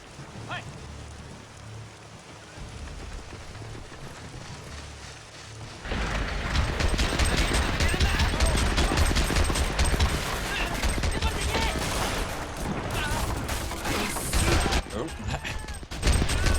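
Rapid, sustained bursts of anti-aircraft gunfire from a Japanese AA gun cutting down infantry in the video game Men of War 2 – Assault Squad, starting quieter, then loud and dense from about six seconds onward, with battle noise throughout.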